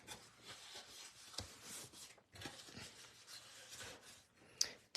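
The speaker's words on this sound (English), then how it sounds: "We're going to need our bone folder so we can burnish our lines that we just scored." A bone folder burnishes freshly scored fold lines on card stock, giving faint, soft rubbing strokes in a quiet room, with a light tap near the end.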